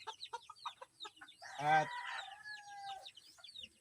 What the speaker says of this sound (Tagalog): dito na muna si hen kasi i-check muna natin yung mga sisiw